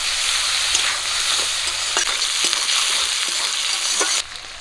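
Bay leaf, slit green chili and chopped onion sizzle loudly in hot oil for a Bengali fish curry, a dense steady hiss with a few spatters and stirring knocks, no voices.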